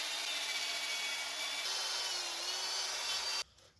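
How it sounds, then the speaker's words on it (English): Wire wheel spins against Dodge Grand Caravan brake parts during a brake noise fix, a loud continuous abrasive whirring scrub that holds steady for several seconds, then cuts off sharply into near silence. "I'll take a wire wheel and clean up."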